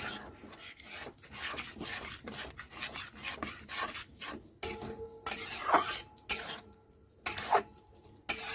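A spatula scrapes and rubs steadily against a pan as ginger garlic paste is stir-fried, a close, continuous rasping with a few louder sharp scrapes and a faint sizzle underneath, no talking.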